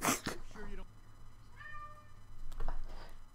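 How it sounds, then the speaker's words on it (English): A pet cat meowing in a room, a short clear meow in the middle of the clip, with a person talking before and after it. "My cat just walked in the room."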